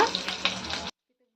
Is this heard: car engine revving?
no